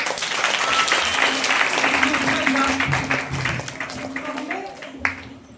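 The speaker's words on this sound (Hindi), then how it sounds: "एक बार जोरदार ताली से" A church congregation bursts into loud applause that holds steady for several seconds, then thins out near the end, with a voice murmuring underneath.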